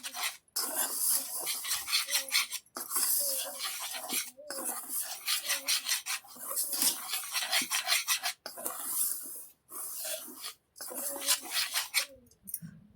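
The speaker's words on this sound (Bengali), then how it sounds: "চিনি নিয়েছি। এবারে এটা মিক্সড করে নিই।" Sugar being stirred into flour batter in a bowl, a steady scraping, rasping rhythm of repeated strokes with brief pauses, close and fairly loud, no talking.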